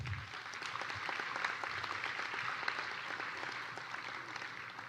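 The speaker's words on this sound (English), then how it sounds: "How about a round of applause for everyone?" Audience at a Mānoa awards ceremony applauding, a sustained wash of many hands clapping at moderate distance, even and continuous throughout with no voices standing out.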